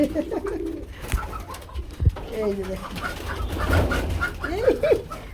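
Sucking lahori and racer pigeons coo at a pigeon farm, soft rolling calls repeating near and far while someone talks in between.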